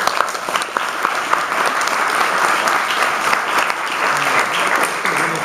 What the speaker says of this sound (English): we should give them both a round of applause